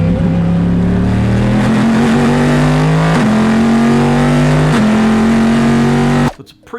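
Corvette C7R race car with a 5.5-liter engine running a practice session at Daytona, a loud, deep, rumbly drone with rising pitch sweeps through the gears, sustained for about six seconds before cutting off abruptly.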